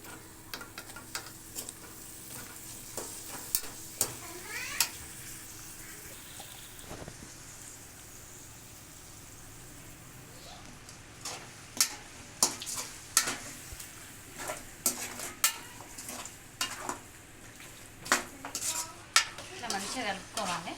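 Chicken with green chillies, onion, ginger, garlic and cumin frying in a pan for chicken curry, stirred with scattered spoon scrapes and clinks over a low sizzle, busier toward the end.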